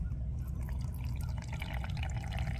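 Hot coffee poured by hand through a stainless steel filter at a motorcycle campsite, a steady low trickling and gurgling stream with small drips, continuous and close throughout.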